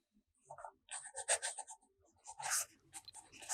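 Fountain pen with fine nib and De Atramentis Artist brown ink scratching across a Portage reporter's notebook, close and soft, in several bursts of strokes with short pauses between.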